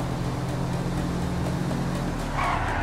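Tires skid and squeal from a car in a video game, with a steady loud engine roar running throughout and a brighter screech rising near the end.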